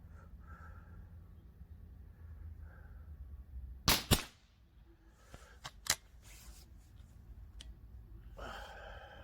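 A TH78d Marksman air rifle fires a JSB pellet with a single sharp, close crack. Lighter mechanical clicks follow over a quiet background hum.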